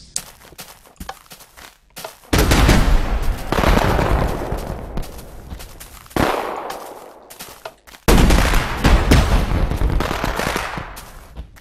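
Small fireworks display set off to celebrate, with dense crackling bursts and rapid popping in three loud waves separated by brief quieter gaps, the last volley a sustained finale barrage.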